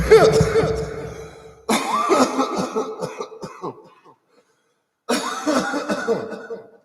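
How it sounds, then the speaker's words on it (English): A person coughing after laughing, a few rough coughs and throat-clearing bursts in two clusters separated by a brief silence, close and fairly loud. "And I coughed because I laughed."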